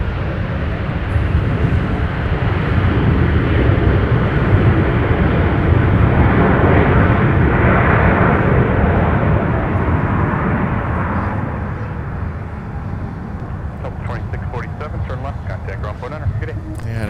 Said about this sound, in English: that's one of Delta Airlines' A321neo aircraft, Delta 2647, in from San Diego